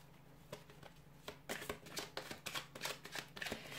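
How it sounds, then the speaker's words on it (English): Rider-Waite tarot cards are shuffled by hand in a quiet room, with rapid riffling bursts and light slaps that grow denser and louder after the first second, and no talking. "I'll give the cards a shuffle"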